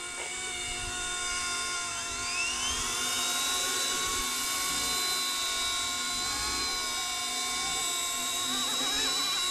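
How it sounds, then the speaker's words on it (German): An ERA C189 MD 500 RC helicopter spins up and flies, its whining rotor and motor tone rising in pitch and holding a loud, steady buzz throughout, with wind noise underneath. "und starte jetzt mal den anderen Hubschrauber."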